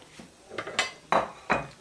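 A kitchen knife chops ginger and garlic on a board: five crisp, close knocks and clicks in an uneven rhythm, with no talk.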